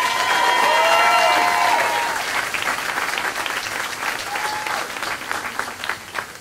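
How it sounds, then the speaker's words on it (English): An audience at a school perfect attendance car giveaway breaks into a sustained round of applause, loud at first and tapering slightly, with a few cheers over the steady clapping. "So let's give them a round of applause."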